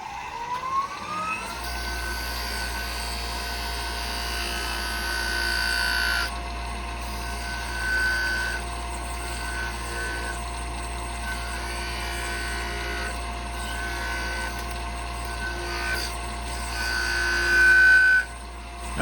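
A wood lathe trims a turned wooden Christmas tree, its motor starting up into a steady, close, loud hum, with the higher scraping of the cutting tool rising and falling over it and no talking.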